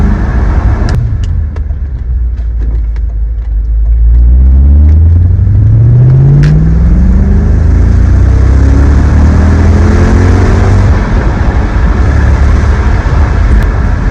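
An Audi S4 B6 engine pulls along country lanes, heard from close by as a loud, deep drone that rises repeatedly in pitch through the gears and stays steady and strong throughout.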